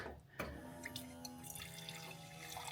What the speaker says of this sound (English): Just click that first click on till we hear that pump going, and let's see how it spurts out now